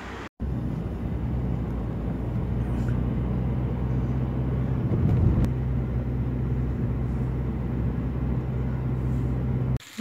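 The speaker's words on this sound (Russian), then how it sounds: "Ну все, мы садимся в машину, уже едем домой." Car interior on the drive home in winter Italy, a steady low engine and road rumble that holds evenly throughout, close and unbroken with no talk.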